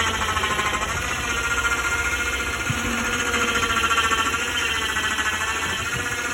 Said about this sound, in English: The winch seems a lot louder than it really is.